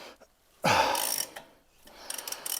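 Ratchet undoing a seized suspension bolt on a Jaguar XKR, a loud grinding click-whir burst followed by quicker, lighter ratcheting clicks close by.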